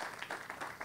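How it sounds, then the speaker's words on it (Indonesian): A church congregation breaks into brief, dense applause during a sermon, many hands clapping at once in a reverberant hall. "Berikan tepuk tangan buat Tuhan."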